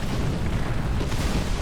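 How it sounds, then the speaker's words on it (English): An artillery barrage in War Thunder pounds around a Panzer III tank in a dense, continuous wall of deep booming blasts and rumbling explosions, loud and close, with no voices. "I have no choice but to go forward into the artillery fire."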